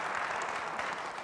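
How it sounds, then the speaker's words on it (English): Audience applause at a political debate in Vegas, a brief, fairly even wash of clapping from a crowd, moderately distant and unbroken by speech. "I think we should keep the applause to a minimum too"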